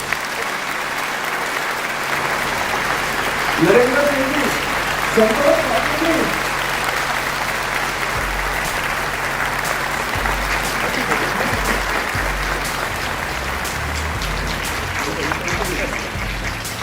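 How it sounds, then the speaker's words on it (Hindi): Loud, steady audience applause fills a Hindu gathering at Hind Chowk in Khampur village, New Delhi, continuing throughout while a speaker announces names over the clapping. "एक बार जोरदार तालियां"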